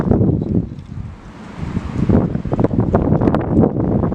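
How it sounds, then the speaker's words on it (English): Outdoor wind buffets the microphone during night-time moon viewing with a telescope, producing loud, low, gusty rumbles that surge and ease over four seconds. "The wind's got to go."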